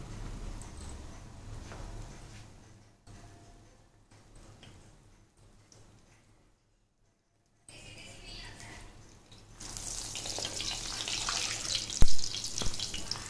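Rotis fry in desi ghee with a low, muffled sizzle that drops away briefly, then returns as a brighter, louder hiss with a few sharp crackles.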